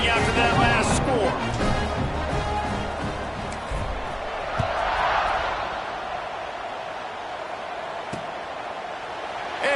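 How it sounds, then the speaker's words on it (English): A packed stadium crowd roars and buzzes in a college football video game with Oregon facing Michigan, a broad continuous wash of noise that swells early and settles beneath a play-by-play commentator's voice. "this crowd is buzzing after that last score."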